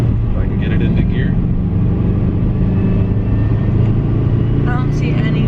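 A Subaru Legacy GT turbo car with a blown engine drones low and steady as it is given gas climbing a hill, a continuous rumbling engine sound heard from inside the car with faint background noises.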